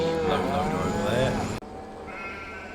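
Cattle on a farm in Farming Simulator 22 moo in loud, drawn-out calls close by, then the sound cuts abruptly to quieter farm ambience.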